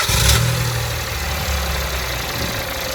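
A car engine idling steadily after an oil change, a low continuous hum with a brief louder moment at the start, no talking.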